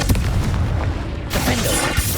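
Confringo fire blast spell cast in Hogwarts Legacy, sounding as dense, booming magical blasts with sharp bursts that recur through the clip, loud and close over heavy game combat noise.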